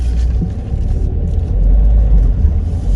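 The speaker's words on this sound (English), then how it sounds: "You can probably hear the cars spinning like mad." Car wheels spin in thick mud on a muddy boat yard track in freezing weather, giving a steady loud low rumble of engine and tyres that swells without pause.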